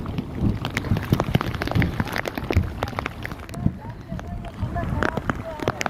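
Heavy rain pours at Keenjhar Lake, a dense, loud, close roar of drops drumming on surfaces without pause.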